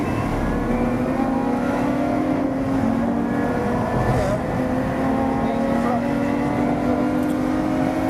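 A Lotus sports car, either an Evora GT430 or Exige Cup 430, lapping Silverstone circuit, its engine a steady, loud drone heard from inside the cabin, holding a constant note throughout with no pauses.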